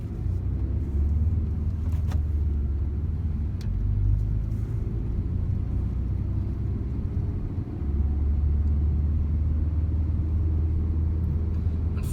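A 2017 Ford Focus RS rolls along with a steady low engine rumble and road drone, close and continuous with no speech.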